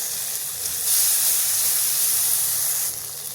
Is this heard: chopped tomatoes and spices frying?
yes